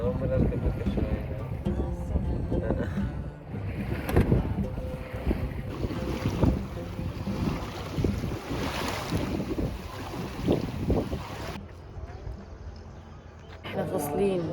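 A boat ride on open water at Tunis village in Fayoum, with steady wind buffeting the microphone and a constant motor-and-water rumble, while people talk over it throughout.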